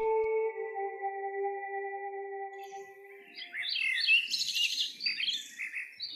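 A steady held tone fades into a lively burst of chirps and tweets, several birds calling close by and overlapping.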